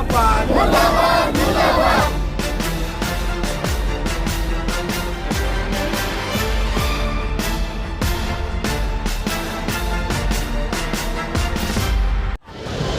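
A loud, close crowd on an RPI Secular party protest march in Bhiwandi chants slogans in rhythmic unison, the chanting continuous and forceful before cutting off abruptly at the end.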